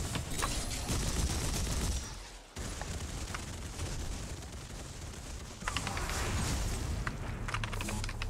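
Howitzer's ultimate ability firing in the video game Paragon, a dense loud barrage of rapid blasts and booming explosions that continues almost without a break, dipping briefly before resuming.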